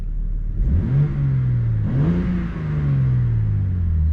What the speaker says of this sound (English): I'm gonna crack my window here. I know it'd probably be better if I actually go to the back, but listen to the revs